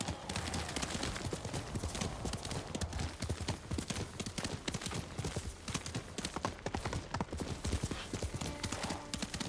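Horse hooves clip-clop at a steady running rhythm in Ghost of Tsushima, loud and close throughout, with an occasional whinny mixed in under game ambience.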